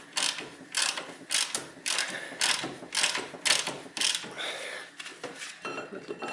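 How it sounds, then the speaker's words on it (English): A wrench loosens a tight bolt on a Nissan front brake assembly during disc replacement, giving repeated metallic ratcheting clicks in short bursts, fairly close and moderately loud, with no talking. "now I am opening this final bolt, and it seems that this is quite tight."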